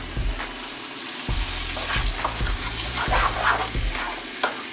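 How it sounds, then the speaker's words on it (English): Tomatoes, garlic and onions sizzle loudly in a hot pan, a constant close crackling hiss punctuated by several dull thumps of stirring. "You can hear it sizzling."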